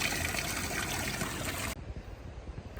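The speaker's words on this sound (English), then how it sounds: "Little natural spring where everybody in Anaconda gets their water from." Water trickles and splashes steadily from a natural spring in Anaconda, Montana, a close, dense, continuous rush that drops abruptly to a quieter flow partway through.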